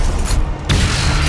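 In DOOM Eternal, a weapon fires and its projectile explodes close by: a dense, loud roar of combat noise dips briefly, then a sharp burst slams back in.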